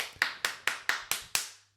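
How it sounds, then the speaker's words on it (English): Six sharp, evenly spaced hand claps ring out close and fairly loud, each with a short tail, at a casual beer-rating session. "Can you clap any harder?"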